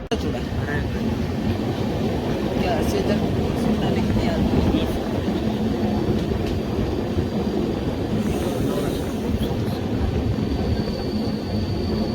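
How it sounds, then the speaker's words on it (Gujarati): An Udaipur City to Patliputra train rumbles with a steady, heavy mechanical drone throughout, close by and continuous, with occasional faint clanks over the noise. "સામે ઊભી છે ઉદયપુર સિટીથી પાટલીપુત્ર ટ્રેન નંબર ઓગણીસ છસો ઓગણીસિત્તેર"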